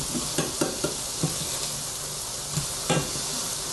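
Vegan soul food sizzling in a pan as it gets flipped, a constant close frying hiss broken by several sharp spatula taps and clatters, no voices.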